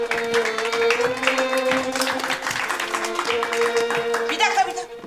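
Scattered applause for an evening event's soloist mixes with music and several voices talking, the clapping moderate and continuous beneath them.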